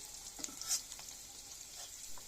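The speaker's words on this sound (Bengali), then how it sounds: "একটু পেঁয়াজ কাঁচামরিচ দিয়ে দিলাম, নাড়াচাড়া করে নিচ্ছি।" Okra frying in a pan with onion and green chili while being stirred, a faint steady sizzle with a few soft scraping stirs, no voices.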